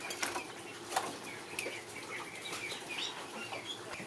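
Quail in a stack cage flap their wings in quick bursts as the males are lifted out, with light chirps and scuffling close by and no talking.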